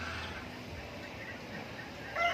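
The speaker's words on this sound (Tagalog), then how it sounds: "ito naman yung mga manok" Chickens cluck softly amid steady outdoor background noise, a few low calls scattered across the clip with a slightly louder burst at the end.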